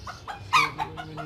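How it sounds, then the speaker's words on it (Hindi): A tiny fancy miniature breed chicken, under six inches tall, gives a quick run of short clucks, with one louder cluck in the middle, fairly soft and close by. "ये फैंसी ये फैंसी छोटी नस्ल की मुर्गी है"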